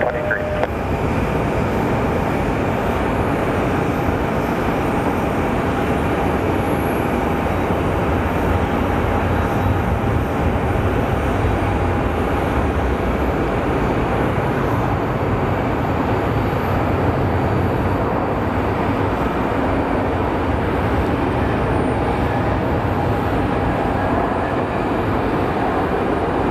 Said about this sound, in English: I guess you're going to have to wait for one more E-Jet to come out.